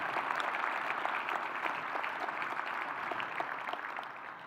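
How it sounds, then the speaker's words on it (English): Steady applause from a large audience at a STEM education summit, dense clapping heard from some distance, holding level before easing slightly at the end. "let's give another big round of applause"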